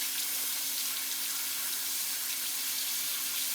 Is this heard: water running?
yes